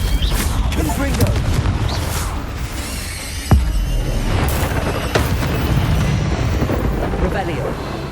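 Confringo fire spell explosions from Hogwarts Legacy, a dense, continuous rumble of magical blasts with one sharp boom standing out partway through, mixed with other game combat sounds.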